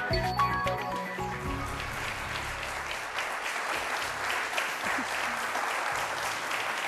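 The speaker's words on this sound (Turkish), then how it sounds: "Alkışı bol verelim." Studio audience applause on a Turkish TV word game show, a steady, dense clapping wash lasting several seconds at moderate level.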